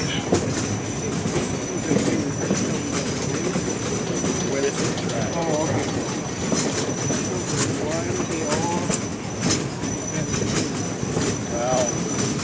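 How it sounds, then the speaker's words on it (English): Narrow-gauge Shay geared locomotive on the Yosemite Mountain Sugar Pine Railroad rolls steadily along the rails, close and loud, with continuous rumble, clickety-clack and occasional wheel squeal. "Shay locomotives are built primarily on the narrow gauge."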